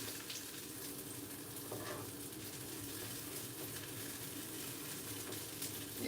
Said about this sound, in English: these onions are caramelizing nicely